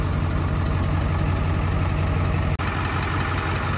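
A Ford 7.3 Power Stroke turbo diesel engine in a 1995 dump truck idles nearby, a loud, steady low rumble with a rhythmic knock that continues unchanged, broken only by a brief dropout.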